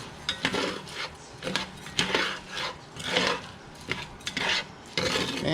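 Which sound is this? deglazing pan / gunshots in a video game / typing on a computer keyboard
deglazing pan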